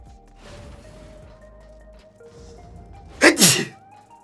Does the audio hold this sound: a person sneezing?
yes